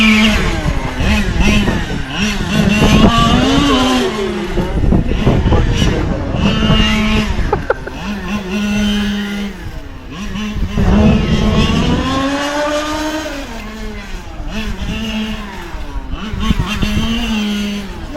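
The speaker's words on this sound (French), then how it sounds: "Le bruit qu'on entend, je pense que c'est l'enrodage toujours" A Genius XR3R car engine runs during break-in, its whining note rising and falling through repeated revs. Voices talk over it throughout.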